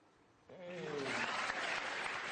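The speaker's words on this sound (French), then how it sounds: "On l'applaudit car Zion Harvey a 8 ans et on vient de lui greffer les 2 mains." A crowd bursts into applause for an eight-year-old boy who has just received a double hand transplant, the clapping swelling in after a brief spoken phrase and continuing strongly to the end.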